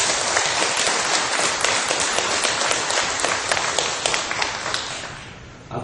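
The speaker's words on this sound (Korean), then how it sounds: "우리 수고하셨다고 박수 한번 하겠습니다" A church congregation gives a round of applause, crisp, close, bright clapping from many hands with distinct individual claps standing out, holding steady for several seconds and then fading away.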